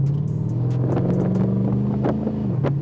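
A supercharged Chrysler 300C engine with a 3-inch catless X-pipe exhaust rumbles close by with a deep, throaty note, idling steadily with slight rises in pitch, no voices.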